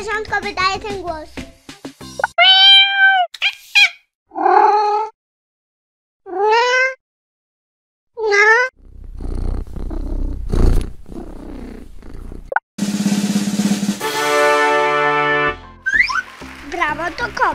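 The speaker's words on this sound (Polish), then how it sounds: "Brawo, to kot." A domestic cat meows several times in short, rising-falling calls separated by silences, followed by a stretch of purring, with a voice and other sounds in between.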